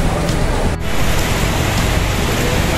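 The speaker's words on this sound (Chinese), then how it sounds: "我们可以看下很大很大的雨啊。" A sudden, very heavy evening downpour falls during a holiday trip. The rain makes a loud, dense, steady roar throughout with no voices.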